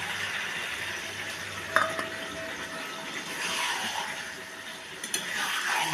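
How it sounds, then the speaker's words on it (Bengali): Masala sautéing (kosha) in a pan gives a steady soft sizzle and frying hiss, broken by occasional scrapes and clinks of the stirring spoon against the pan. "একটুখানি কষা হবে এটা মশলাটা একটু ভালো করে"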